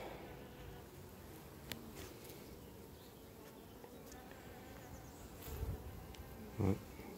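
Steady, dense buzzing of many honeybees close by, with a few soft knocks and rustles near the end.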